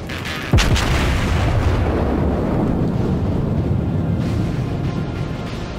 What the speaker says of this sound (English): now I can shoot him